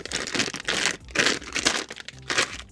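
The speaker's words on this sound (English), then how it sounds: "So I'll just open the bags here." Crinkly plastic rustling and crumpling in several close bursts as plastic model kit parts bags are handled and pulled open, with short pauses between.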